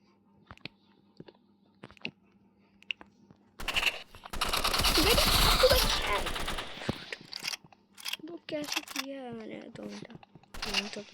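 Sniper gunfire in a Roblox shooting match comes as a dense, loud burst lasting a couple of seconds, with a few sharp single clicks before it and a voice talking after it.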